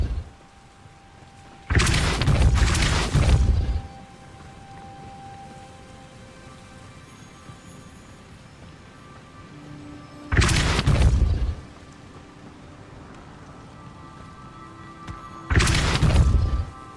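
Three powerful whooshing blasts of the Depulso spell being cast in Hogwarts Legacy, each about one to two seconds long, loud and broadband, separated by long stretches of low ambient hum.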